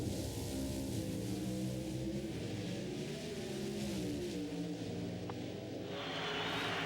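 Drag racing cars, a Castrol Oldsmobile against a red and white Dodge at the 1991 NHRA U.S. Nationals in Indianapolis, a loud sustained engine roar with shifting pitch that fills the whole stretch, heard from a distance.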